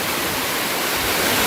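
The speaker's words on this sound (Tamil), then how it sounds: "இந்த ரெசிடென்ஷியல் ஏரியாஸ்க்கு பக்கத்துலேயே இந்த மாதிரி அருவி மாதிரி கொட்டிட்டு இருக்குங்க தண்ணி." A small waterfall pours beside a residential area on the way from a tea estate lake in Vagamon, a dense, steady hiss of falling water that fills the sound without pause.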